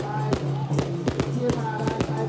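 Firecrackers burst in a rapid string of sharp, loud bangs during a temple procession at Jiaying Temple welcoming the Wang Ye deities, with crowd noise and cheering beneath the blasts.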